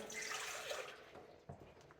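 Warm water poured into a bowl of pizza dough mixture, a steady splashing pour for about a second that fades out, followed by a faint soft knock near the end.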